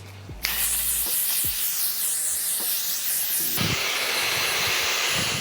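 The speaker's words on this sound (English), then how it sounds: "now I'm gonna use this L'Oreal Infallible Setting Spray" A steady, loud spray hiss from a pump mist of L'Oreal Infallible makeup setting spray, continuous for several seconds, with a brief change in texture partway through.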